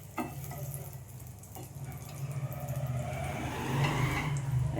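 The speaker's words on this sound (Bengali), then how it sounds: "এবার সব পনির আমি এক এক করে তুলে নিচ্ছি" Paneer pieces fry lightly in hot oil in a kadai and are lifted out one by one. A steady sizzle grows louder toward the end, with no talking.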